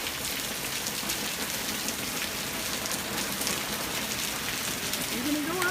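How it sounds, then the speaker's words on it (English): Heavy rain pouring down steadily as a dense, even hiss of drops on surfaces, constant and fairly soft throughout without pauses. "Pouring down rain."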